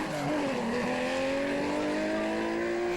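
A Porsche 930 Turbo rally car in a historic rally event roars past, its loud engine note climbing and holding a steady high drone with a brief squeal at the start, close and sustained.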